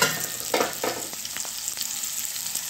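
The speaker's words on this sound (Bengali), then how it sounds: "একটু দিয়ে তাকে খুব ভেজে নেব। ঢাকা দিয়ে ভাজবো।" Dried fish frying in a pan, a close, steady sizzle with a few sharp clicks and crackles spaced through it, no talking.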